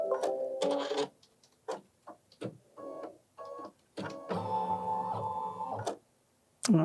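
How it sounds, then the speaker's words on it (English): A home embroidery machine stitches down a quilted mug rug piece in short bursts of rapid mechanical needle chatter, separated by brief pauses, then one long continuous stitching run near the end. "Okay, let's go ahead and stitch that down now"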